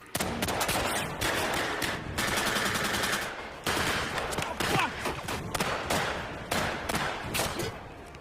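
Gunfire in a war film as soldiers trade shots with German troops: sustained loud bursts of automatic fire and scattered single shots for several seconds, with no talking.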